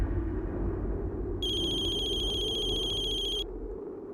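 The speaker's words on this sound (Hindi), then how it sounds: "आई का फोन।" A telephone rings with a steady electronic trill for about two seconds over a low background hum, then stops.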